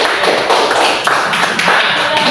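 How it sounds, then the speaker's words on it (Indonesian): Applause for a student in a classroom during a teacher training session, a close, steady clapping of hands that carries on for a couple of seconds. "tepuk tangan dulu untuk Noven"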